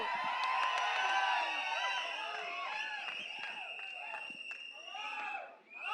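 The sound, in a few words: audience applause and cheering for Ravi Basrur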